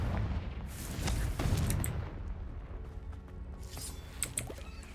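A Confringo blasting spell explodes in the video game Hogwarts Legacy, giving loud booming blasts with heavy low rumble, then a quieter crackling tail and a few further bangs.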